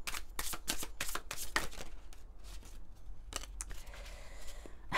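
Tarot cards being shuffled and drawn, a run of crisp riffling and flicking bursts close up, then softer sliding and tapping as cards are laid out, with no voices.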